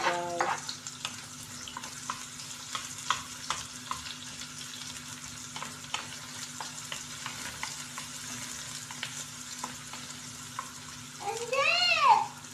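Onion and ginger sauté in a pan with a steady, close sizzle and light stirring scrapes throughout, ending in a brief rising squeal.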